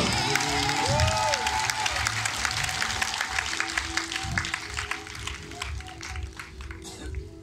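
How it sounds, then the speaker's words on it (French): A church congregation at a night service for the Immaculate Conception claps and cheers, a sustained burst of applause with raised voices that slowly thins out. "est-ce qu'on peut acclamer ce nom?"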